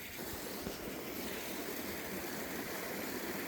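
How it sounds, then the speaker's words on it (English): A waterfall at Glencoe pours down toward a bridge, giving a steady, broad rushing wash of water that stays even from start to finish with no voices. "I've got the waterfall coming in from the right, flowing down to the bridge"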